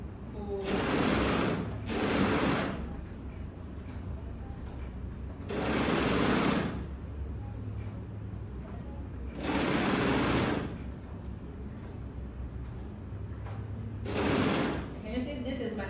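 An overlock sewing machine stitches along a fabric edge in loud, whirring bursts of a second or two, separated by pauses where a voice talks.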